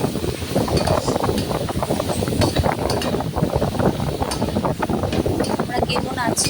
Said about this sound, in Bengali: হলুদটা পরিমাণ মতো দিয়ে দেওয়া হলে এবার নাড়িয়ে চাড়িয়ে নিচ্ছি।